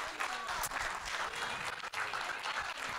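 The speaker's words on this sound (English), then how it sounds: "So let's clap for Janice." Church congregation at a Sunday service applauding a young woman from the youth group, a steady, fairly quiet wash of clapping from a roomful of people, with murmuring voices beneath.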